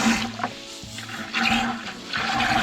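Water from a tankless water heater's acid wash flush rinses out in rushing, gurgling surges, swelling and easing a few times at close range with no talk.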